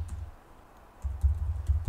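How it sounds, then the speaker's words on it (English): Typing on a computer keyboard for search terms: a quick burst of close, soft key clicks, a short pause, then a denser run of keystrokes. "already from typing in those search terms"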